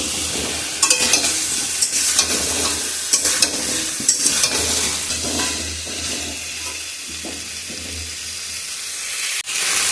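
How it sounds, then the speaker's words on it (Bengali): Potato, pointed gourd and bitter gourd frying in spices, a steady close sizzle and hiss with repeated scraping stirs of a spatula in the pan throughout, loud and without voices. "এবার এর মধ্যে আমি আলু, পটল আর উচ্ছেটা দিয়ে একটু ভালো করে ভেজে নেব"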